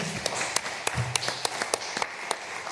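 A small audience at a solar heating discussion event clapping, with sparse, fairly regular sharp claps standing out over a low background murmur.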